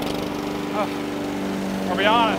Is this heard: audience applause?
no